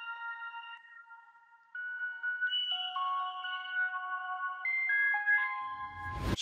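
Soft synth chords arpeggiated in FL Studio, clean bell-like notes stepping up and down in a gentle sequence, ending in a brief burst of noise.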